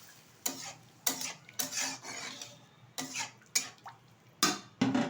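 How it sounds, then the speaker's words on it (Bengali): A spoon stirs mankochu curry with garam masala powder in a pan, a series of about eight separate scraping strokes at an uneven rhythm, close and fairly quiet. "এখন দিয়ে দেবো পরিমাণ মতো জল, দিয়ে দিচ্ছি একটু গরম মশলার গুঁড়ো। ভালোভাবে নাড়িয়ে নিচ্ছি।"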